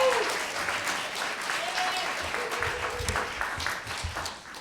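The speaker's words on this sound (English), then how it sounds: "Come on, y'all, clap it up for Jordan Harris." Audience applause for a graduate at a Laney College EOPS graduation ceremony in 2023, a dense, continuous crowd clapping at steady volume with faint cheers mixed in, tapering slightly at the end.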